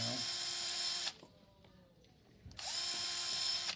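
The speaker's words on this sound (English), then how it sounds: "We're also going to drill 2 holes in this one" A power drill whirs loudly for about a second, stops briefly, then spins up again for another long burst, close by.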